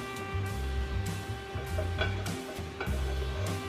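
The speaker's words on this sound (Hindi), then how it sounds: "इसी के साथ डाल रहे हैं वेजिटेबल जो हमने सबसे पहले बनाई थी। सो इन्हें अच्छे से मिक्स कर लेना है।" White sauce pasta being stirred together with cooked vegetables in a pan, giving soft repeated scraping and stirring strokes over a steady low hum, with faint sizzling throughout and no talking.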